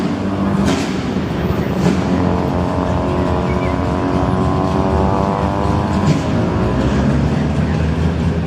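JDM cars revving and letting off exhaust bangs as they pull away from a car show, engines droning loudly and continuously with a few sharper pops over the crowd noise.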